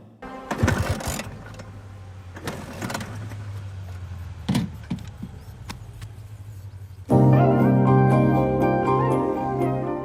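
An old, worn-out motorbike sputters through a few failed attempts before its engine catches and settles into a steady, loud idle.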